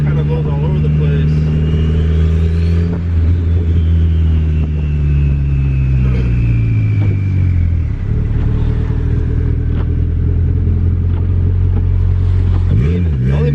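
A turbocharged Honda Integra with a B20V engine, making about 270 wheel horsepower, pulls hard on the street, its loud engine note climbing and dropping through gear changes with a deep, droning rumble close by.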